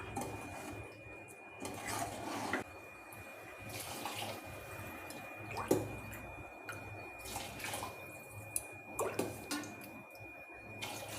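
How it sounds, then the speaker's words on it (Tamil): Water splashes and trickles into a pot of rice for cauliflower and pea biryani, poured in several uneven streams, quiet and close with no talking. "மூணு டம்ளர் ஊற்றியாச்சு."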